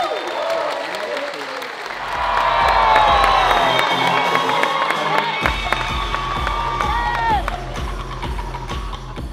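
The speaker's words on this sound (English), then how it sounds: "as you can hear by the crowd, they seem to like you here, Chris." Loud crowd cheering and applause fill a large arena at the Olympia bodybuilding show in Las Vegas, swelling after two seconds with whoops and shouts, while a steady thumping music beat pulses underneath.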